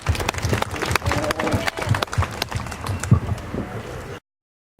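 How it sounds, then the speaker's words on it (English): Audience clapping for two exhibitors at a 4-H calf show's junior showmanship class: a dense, steady patter of many hands that carries for about four seconds, then cuts off abruptly into silence. "Let's give these two exhibitors a round of applause."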